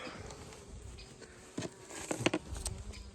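Honey bees buzz and hum close by at a hive, with scattered louder buzzes and soft tapping rising toward the end.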